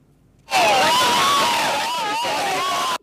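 A dense crowd of mourners in the streets of Nairobi erupts into loud, sustained screaming and wailing that starts abruptly and holds at full intensity, with voices overlapping in a continuous anguished roar.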